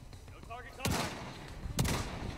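Two sharp, loud gunshots from a gun in The Division 2, separated by about a second, the first following a stretch of quieter game sounds.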